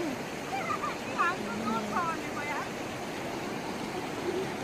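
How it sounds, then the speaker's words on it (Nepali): A swollen mountain river in a Dadeldhura village rushes in a constant broad roar, with birds chirping faintly above the water. "तर खोला चाहिँ आइरहेको छ"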